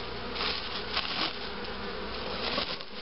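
A dense, steady hum of many honeybees buzzing close by at a hive during a colony check, swelling slightly in places, with no talking.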